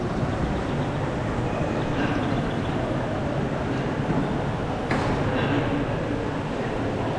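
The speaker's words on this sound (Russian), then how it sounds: "Вот такие вот интерактивные модели здесь железных дорог." A model railway train runs on an interactive layout in a science and industry museum in Chicago, giving a steady rumbling roll over a noisy hall for several seconds, with no clear talk on top.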